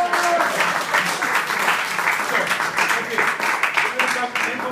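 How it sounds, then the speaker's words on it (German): A small audience at a literature museum event claps loudly and close in a dense, steady burst of applause, with voices talking over the clapping throughout. "Also Applaus ist ja, wir müssen einen Applaus geben."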